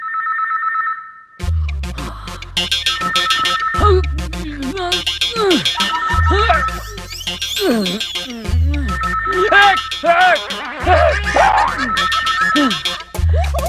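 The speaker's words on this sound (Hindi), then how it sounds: "लो फोन की घंटी बंद हो गई।" A phone rings repeatedly in a steady, insistent pattern in a Bollywood comedy film scene, with a voice and music playing loudly beneath it throughout.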